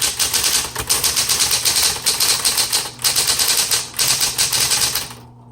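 Rapid, continuous keystrokes clatter from a 1970s Smith Corona Coronet Electric 12 electric typewriter, loud and close in an even rhythm over a faint motor hum, with brief pauses before the typing stops.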